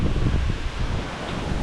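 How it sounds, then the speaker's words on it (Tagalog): Strong wind blows across the microphone outdoors in a flood-prone neighborhood, a steady loud buffeting rumble with rustling, continuous for under two seconds with no talk. "Oh, lakas ng hangin."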